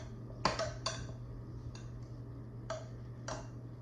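Cheese being stirred into potato filling in a bowl, a few sharp utensil clicks and scrapes against the bowl over a steady low hum, no talk.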